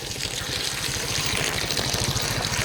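Water runs steadily from a hose or line onto spongy orchard soil, a close, continuous gushing trickle with no voices.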